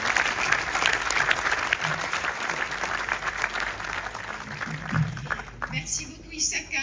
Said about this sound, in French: merci de les accompagner avec vos applaudissements